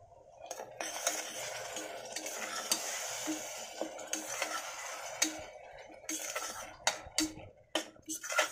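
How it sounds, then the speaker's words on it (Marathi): Ground masala paste being sautéed in a pan for a mushroom curry, with a faint sizzle under steady stirring and sharp scrapes and clinks of a spoon against the pan. "आता हे वाटण देखील आपल्याला चांगलं परतून घ्यायचं इथे।"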